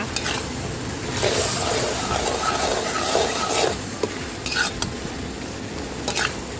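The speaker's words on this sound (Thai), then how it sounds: "ทำการผัดคลุกเคล้าให้ เครื่องปรุงรสค่ะมันเข้ากับตัวตับนะคะ" Pork liver with seasoning is stir-fried without added water in a pan, giving a steady sizzle with repeated spatula scrapes and tosses, close and continuous.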